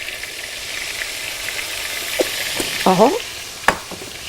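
Lemon juice hits sizzling butter and garlic in a pan while cooking fish, a steady soft hiss with a brief sharper crackle and clatter near the end; a voice speaks briefly.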